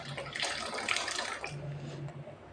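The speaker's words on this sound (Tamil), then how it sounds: "கொஞ்சம் லைட்டாக தண்ணி ஊற்றிக்கலாம்." Water poured into a mixer jar while making egg curry, a short steady splashing pour close to the microphone, loud at first and then tapering off, with no talking.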